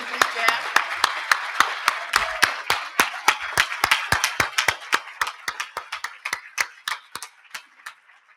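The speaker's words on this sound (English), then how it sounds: "I'd like to assume that some of that applause are for me too" An audience applauds at a 25th anniversary celebration, a sparse round of distinct hand claps in an uneven rhythm that thins out toward the end, fairly close and moderately loud.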